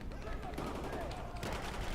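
Gunfire in the video game Battlefield 4, rapid bursts of machine-gun shots with a sustained combat din, loud and dense throughout.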